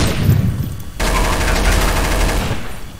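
Rapid automatic gunfire from the video game Counter-Strike: Source, shot through smoke: a loud, close burst of fast repeated shots that starts abruptly and runs continuously.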